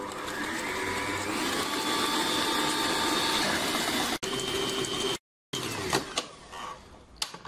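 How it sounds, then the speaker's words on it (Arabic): Electric mixer beating flour, starch and other cake batter ingredients together for a Swiss roll sponge, a steady close mechanical whir that cuts off briefly, then resumes with rattling bumps near the end. "ناخدهم بقى كده كلهم ونضربهم كده كلهم مع بعض لحد القوام ما يتضاعف"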